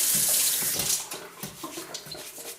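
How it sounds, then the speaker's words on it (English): Running tap water splashes steadily into a sink while pickling cucumbers are scrubbed by hand, with soft rubbing and knocking sounds beneath the close, loud flow. "you can see I just give them a nice little scrub to get all those little black pieces off"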